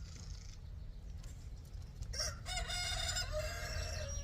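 A rooster on a homestead lets out a loud, fairly close crow in the second half, after a stretch of quieter background clucking.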